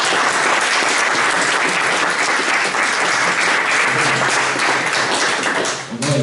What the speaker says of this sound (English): round of applause to our panelists.